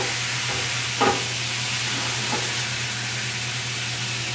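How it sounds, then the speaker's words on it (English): A steady, broad hiss of wine sizzling in a hot frying pan, with a couple of faint clinks near the start. "the wine is going to sizzle very hot"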